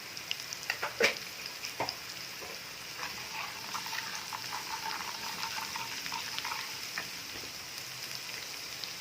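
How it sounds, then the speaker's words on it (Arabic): Dried coriander frying in a hot pan for lentil soup crackles with a soft, steady sizzle and light stirring, a thump near the start, the whole sound fairly faint. "دلوقتي بعد ما سخن نحط الكزبره الناشفه بتاعتنا"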